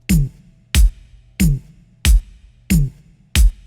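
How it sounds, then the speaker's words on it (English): Six evenly spaced kick drum hits from a reggaeton beat, each a deep tom kick layered with a regular kick, giving a punchy low thump with a short attack, played alone and close. "I started out with two kicks, a deeper tom kick and a regular kick, and that sounds like this."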